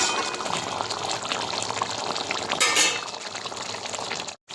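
Cooked gati kochu curry is poured from a pan, a soft wet slosh and trickle with faint metallic clinks, close by and quiet, with no talking.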